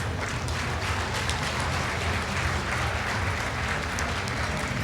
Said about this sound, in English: Please give a round of applause to our guests.